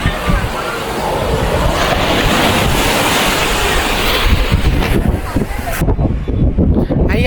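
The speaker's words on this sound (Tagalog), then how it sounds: "Grabe, ang lakas ng alon." Strong surf pounds the shore at Haeundae beach in Busan, a continuous loud roar of breaking waves with wind buffeting the microphone throughout.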